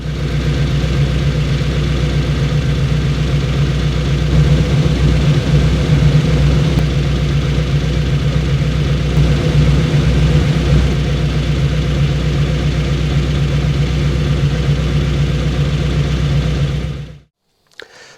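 Ferrari 308 engine idling at about 950 RPM, a loud, steady, low rumbling drone close by with slight pulsing unevenness, running alone until it cuts off near the end.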